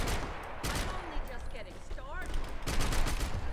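Bursts of gunfire from a Max Payne 3 multiplayer free-for-all match crackle in quick, uneven volleys at moderate volume, with some talking mixed in.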